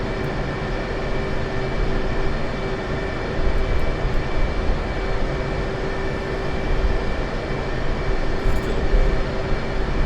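Aircraft engine noise roars steadily and close, a dense sustained drone with a faint steady hum on top, as the plane circles after a carrier launch; no voices.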